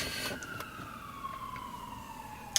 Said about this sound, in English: I just now noticed those sirens